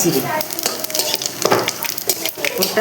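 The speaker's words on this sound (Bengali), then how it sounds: "গোটা গরম মশলা আমি ফোড়ন দিচ্ছি" Whole garam masala and cumin spluttering in hot oil in a pan: loud, close crackling sizzle with rapid pops and spits, continuous throughout.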